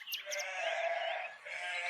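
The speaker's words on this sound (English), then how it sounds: "it's only a sheep" A sheep gives one drawn-out, wavering bleat, fairly close and alone, with a brief second cry near the end.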